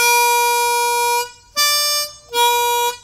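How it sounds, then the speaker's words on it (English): A single ChromaBender harmonica reed sounds alone in three separate sustained notes, each about a second long. The tone is steady and bright, with short gaps between the notes and no voices. "Here's the sound of the X reed."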